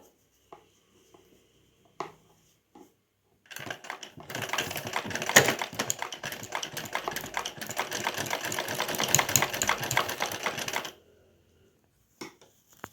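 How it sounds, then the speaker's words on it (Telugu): A sewing machine running in reverse along a blouse shoulder seam gives a close, fast, continuous rattling whir for several seconds, bracketed by a few isolated clicks and taps. "మళ్ళీ రివర్స్లో ఒక కుట్టేసుకోండి మీరు"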